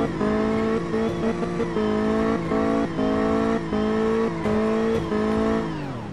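Reverse donuts in a car in Car Mechanic Simulator: a steady loud engine drone with tires squealing throughout, pitch wavering as the car spins, then dropping away near the end.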